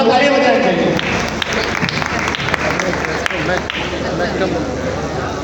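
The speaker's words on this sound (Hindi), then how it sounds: "जोरा तालियां बजाएंगे।" Loud, continuous applause from an audience at an annual school program's quiz, a dense wash of clapping with occasional sharp individual claps, with voices faintly mixed in beneath.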